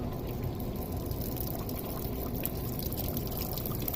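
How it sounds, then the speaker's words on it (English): Liquid poured from a bottle into the lift gate drain channel of a 2013 Cadillac SRX, a steady, continuous splashing gurgle at close range with no talk. "I'm gonna dump a whole bottle down each side."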